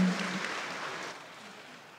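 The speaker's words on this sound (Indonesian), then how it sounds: "tepuk tangan yang meriah untuk Bapak Sandiaga Salahuddin Uno." Applause from the audience at the opening of the Green Tourism International Seminar & Entrepreneurship Expo 2022, a soft steady patter that thins and fades out over two seconds, with no talk over it.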